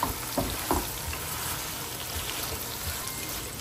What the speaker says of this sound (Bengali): আমি শুটকিটাকে ভালো করে কষিয়ে নেব